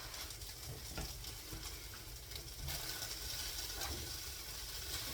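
Eggs and cheese frying in a pan, the cheese melting and crisping, give off a steady, close sizzle with faint crackles and no talking.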